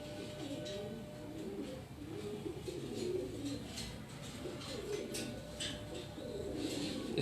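Pigeons coo on a rooftop loft in Larkana, Sindh, repeating soft rolling calls in a loose rhythm, with some faint higher chirps and background noise and no clear talking.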